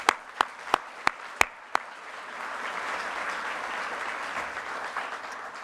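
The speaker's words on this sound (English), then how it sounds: "I'd like to give them a very well-deserved round of applause." Applause at a graduation ceremony for master and PhD programmes: a few sharp, evenly spaced claps open it, then a broad crowd of hands builds into sustained, moderately loud clapping that rolls on steadily.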